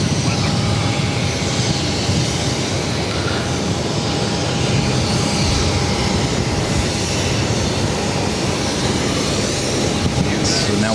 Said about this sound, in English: 242 taking off to Amsterdam on the A330-300.